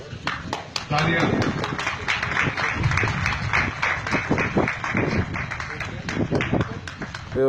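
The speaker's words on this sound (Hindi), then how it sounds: "तालियां।" Clapping from a crowd at a public gathering, dense and sustained for several seconds with sharp individual claps standing out, mixed with voices.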